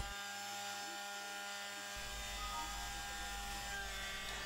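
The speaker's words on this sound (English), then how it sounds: "We now see the last few seconds of 3-axis machining the Star of David shape during the second setup from above." A CNC machine running a 6mm ball end cutter does 3-axis machining of a Star of David shape in wood, giving a steady high whine over a low motor drone that thickens partway through, with no one speaking.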